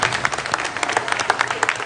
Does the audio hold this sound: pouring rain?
no